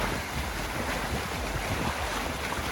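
Water rushing and leaking through poorly closing bottom gates of a canal lock on a narrowboat trip, a steady broadband wash of flowing water with wind noise, continuous and fairly close, no voices.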